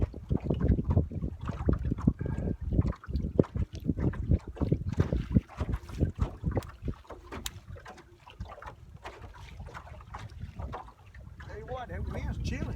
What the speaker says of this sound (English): Chilly this morning. Wind blowing.